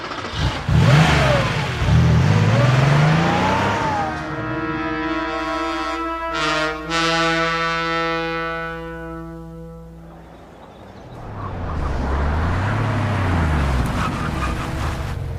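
A car engine revs up loudly and the car accelerates away with a rising whine that fades into the distance, a dramatized sound effect in a radio drama, with voices heard before and after.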